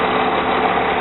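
An old mechanical bus engine idles steadily and loudly close by, a constant low rumble that keeps running after the key is turned off.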